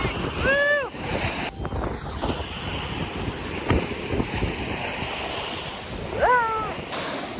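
Atlantic Ocean surf breaking on the shore at Assateague Island, a broad continuous roar with wind buffeting the microphone, while a couple of high voices call out briefly near the start and end.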